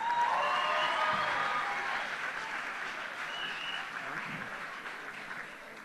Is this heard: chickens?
no